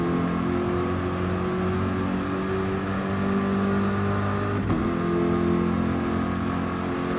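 Corvette and Mercedes GT3 race cars in a sim race at Monza, engines droning at a steady high pitch with layered tones and a brief dip near the middle, loud and continuous without voices.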